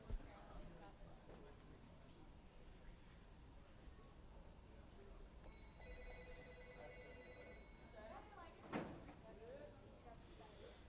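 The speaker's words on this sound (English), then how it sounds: "And the old phone ringing." An old telephone bell rings at a bowling alley, a single bright ring burst of about two seconds, faint and distant within a quiet, murmuring hall ambience, followed shortly by a sharp knock.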